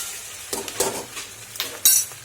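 A spoon scrapes and clinks against a pan while ginger garlic paste is stirred into fried onions, a few short clattering strokes over a faint sizzle.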